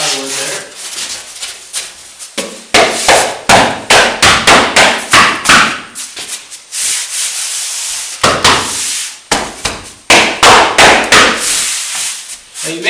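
Hammer blows drive a nailing strip over plywood and foundation insulation boards, coming as loud, close, sharp bursts in uneven clusters with short pauses between them.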